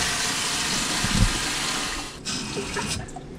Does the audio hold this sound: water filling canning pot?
yes